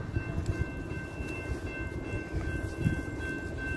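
A Norfolk Southern freight train, symbol NS20D, rolls past in Spartanburg with a steady, heavy rumble and clatter of cars on the rails, a faint whine running through it, close and without talk.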